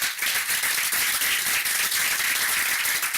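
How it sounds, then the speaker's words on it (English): A crowd at a board of education meeting claps for a group of students in a thick, continuous round of applause. It holds a steady loudness throughout the whole clip with no voices. "if we could give them a round of applause"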